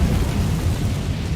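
An Incendio fire spell cast in Hogwarts Legacy, heard as a loud, dense, rumbling burst of flame that fills the whole moment with heavy low roaring.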